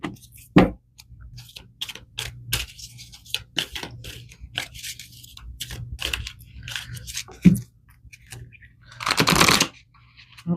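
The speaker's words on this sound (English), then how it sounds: "that was some terrible shuffling" Tarot cards are riffled and shuffled in uneven bursts of crisp flicks and snaps, ending in a longer rapid flurry, heard close with no talking.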